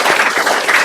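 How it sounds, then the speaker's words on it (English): Applause from a forum audience, a dense burst of many hands clapping at once, close and fairly loud, very brief. "If you guys would please join me in applauding the audience."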